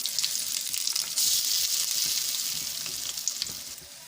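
Handvo batter hits a hot pan with curry leaves and fries in a loud, steady, hissing sizzle that holds for several seconds, close and unbroken, with no talking.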